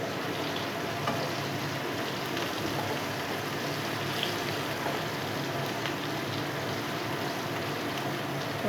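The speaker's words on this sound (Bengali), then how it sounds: "তাই এই কাঁকরোলগুলো আমি ভেজে নিই" Thin round slices of spiny gourd (kakrol) fry in a pan with a steady, even sizzle that holds at a moderate level throughout, with no talking.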